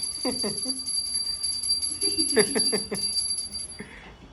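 A small temple bell rings in quick clusters of strikes, with a sustained high metallic tone, as voices talk nearby.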